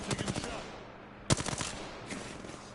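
Bursts of automatic gunfire in the Apex Legends battle royale shooter, a rapid rattling volley followed after a pause by a sharp loud shot and another fast burst, with fainter shots trailing off.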